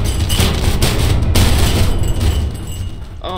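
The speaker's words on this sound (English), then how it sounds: "We are going to get a detached 100 millimeter cannon." Loud, dense booming blasts and rapid bursts of 100 millimeter cannon fire in People Playground, continuous and close, with no pause throughout.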